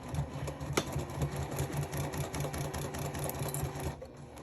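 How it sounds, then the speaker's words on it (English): A sewing machine stitching fabric along a drawn line runs steadily and close, a fast even mechanical hum with rapid needle clatter and one sharp click early on, stopping just before the end. "you're going to sew along the line that you drew."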